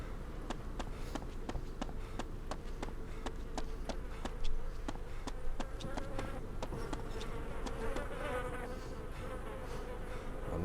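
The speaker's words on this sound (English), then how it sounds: "but there's flies. And usually the fly buzzing noise" Flies buzz faintly and continuously around a spot in the survival game DayZ, a thin whining drone over quiet ambient background with soft repeated ticks.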